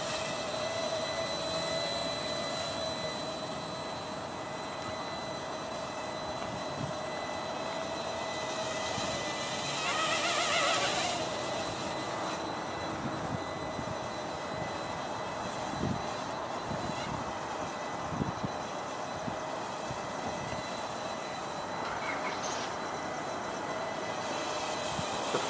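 A Walkera LadyBird quadcopter whirs steadily in flight at moderate distance, its buzzing drone continuous and even for the full stretch, rising briefly around the middle before settling back.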